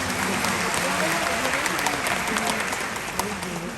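A concert crowd applauds a band, a dense steady wash of clapping sustained throughout at moderate level, with a voice faintly present beneath it.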